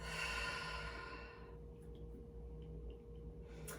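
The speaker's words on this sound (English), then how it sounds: "Another deep inhale in through the nose. Ribs are expanding in every direction. And exhale it out through the mouth." A deep exhale out through the mouth during guided yoga breathing, one long audible breath out lasting about a second and a half and fading into quiet room tone.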